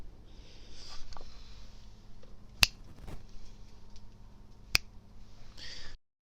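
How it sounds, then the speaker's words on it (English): Two sharp, isolated finger-snap clicks about two seconds apart, sounding close and fairly loud over a quiet room hiss, used as a sync marker during a sound check. "I always do the click twice, even though once will suffice, normally"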